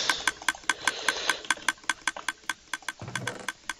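A Minecraft redstone vertical conveyor belt machine runs in the game, producing a rapid, regular train of loud mechanical clicks and pistons over a low rumble, with a slight shift in texture near the end and no talking.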